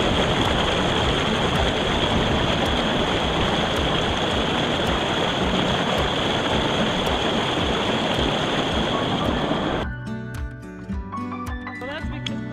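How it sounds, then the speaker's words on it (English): Center Basin Creek, a mountain creek, rushes loudly and steadily close by as a constant roar, then cuts off abruptly near the end as music takes over. "Center Basin Creek is right down there."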